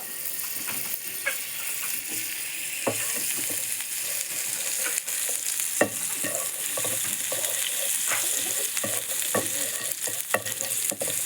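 Butter sizzling in a pan after bread toasting for a sandwich: a continuous hiss of frying with scattered clicks and scrapes of stirring, fairly close and without talk.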